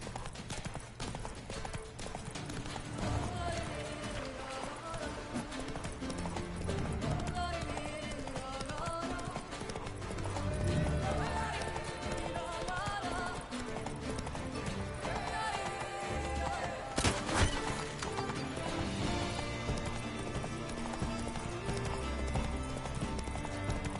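Roach, Geralt's horse in The Witcher 3: Blood and Wine on PS5, gallops with steady rhythmic hoofbeats and clip-clop throughout, set against a dense, continuous game soundtrack and ambience, with a brief sharper burst near the end.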